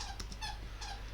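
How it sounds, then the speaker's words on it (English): A small puppy squeaks and whimpers faintly in the background of a quiet indoor room, with a few brief high yips over a steady low hum. "If you hear squeaking in the background, it is my little pup."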